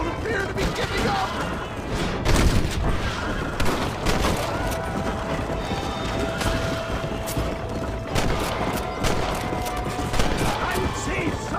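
Gunfire from pursuing men in Red Dead Redemption crackles in rapid scattered shots amid hoofbeats and action noise, with someone shouting over the chaotic, continuous fusillade.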